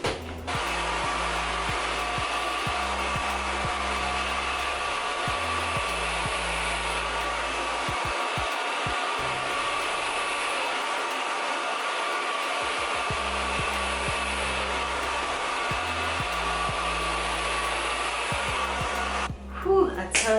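A hair dryer runs close and loud during an at-home relaxer hair treatment, a steady blowing whir that briefly cuts out and comes back with lower motor hum pulsing on and off, and a soft clatter near the end.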